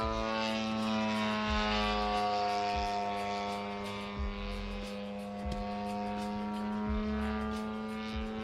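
A model Pitts aircraft with a DLE 111 petrol engine drones steadily at a fixed pitch, rich in harmonics, with regular low thumps and no talk; it sounds moderately near and holds the same level throughout.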